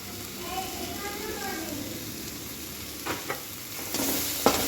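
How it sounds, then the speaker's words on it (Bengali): Spice masala with chili powder, turmeric and salt sautéing in a pan, steady sizzling with scraping stirs and a few sharp clinks of a utensil, close up, while a voice speaks faintly in the background early on. "এবার মশলাটাকে এইভাবে অল্প অল্প করে কষাতে থাকবে।"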